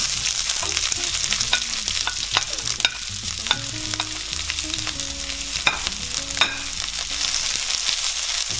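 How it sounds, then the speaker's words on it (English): Onions sizzle in oil in a hot pan, a close, continuous crackle broken by irregular scrapes and clicks of stirring, with no one speaking. "I've got my pan nice and hot, guys. Just going to add in just a bit of oil. And to that, we are going to start off by adding in our onions."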